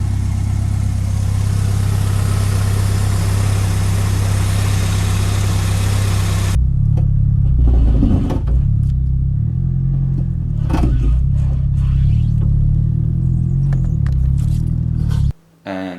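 Nissan S15 Silvia lowered on 326Power coilovers idles and creeps out of a driveway, a steady mid-pitched engine drone with brief scrapes and knocks as the underside and sway bar touch the ground, fading out at the end.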